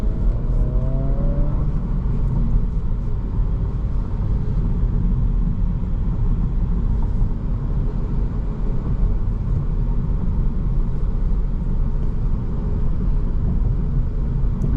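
A 2025 Acura Integra A-Spec Tech with a 6-speed manual gearbox drives along, its engine and road noise forming a steady, loud low rumble heard from inside the cabin, with no talk.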